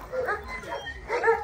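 Dogs at the Mariupol zoo yip and whimper in short bursts, mixed with someone talking over them.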